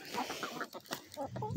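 A hefty hen clucks close by in quick, uneven bursts of short throaty calls, with a little soft human talk mixed in.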